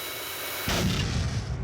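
A jet engine surges and stalls in a backfire that can throw flames out the front and back before it shuts down: a sudden loud broadband roar bursts in after a quieter lead-in and rumbles on, close and heavy.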